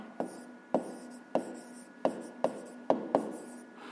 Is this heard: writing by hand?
yes